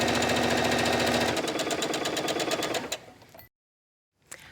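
Home sewing machine stitching the side seam of a vest, running in a loud, fast, even mechanical chatter for about three seconds, slowing and stopping, then a brief restart after a pause.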